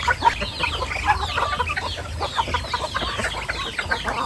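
A flock of chickens clucks and chatters continuously nearby during feeding, a busy overlapping cackle with occasional louder calls.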